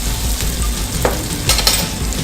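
Onion sizzles steadily in a hot pan while cooking Jamaican-inspired brown stew chicken, a loud continuous crackle with brief stirring scrapes.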